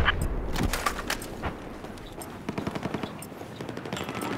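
Machine gun fire in the Battlefield 4 video game, rapid bursts of shots at varying distances, some loud and close, others quick and clipped, over a rumbling battlefield background.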